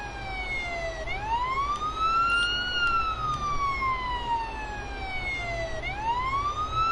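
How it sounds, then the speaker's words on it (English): Police car siren from the video game Police Simulator, wailing continuously and loudly with slow rising and falling sweeps, close and steady throughout with no talking. "Siren is driving me nuts."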